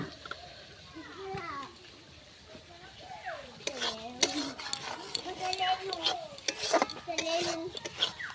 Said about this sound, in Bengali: এখন মশলা কষাচ্ছি